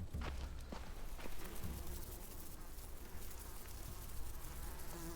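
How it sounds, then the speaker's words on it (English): Flies buzzing around severed heads in the Walking Dead video game, a steady insect drone under a noisy game soundscape with scattered footsteps and clicks, fairly faint and continuous. "the sound effect to give the hint that there's probably flies buzzing around these heads"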